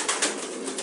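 Racing pigeons coo softly and briefly at close range just after landing from a 350 km flight, a short burst of bird sound with nothing else over it.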